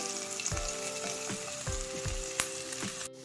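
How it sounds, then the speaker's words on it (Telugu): Capsicum and green beans frying in a pan for masala upma give a close, continuous sizzle. Several low knocks and scrapes from stirring break through, and the clip ends with a sudden cutoff. "బీన్స్ దోరగా వేయించుకోవాలి"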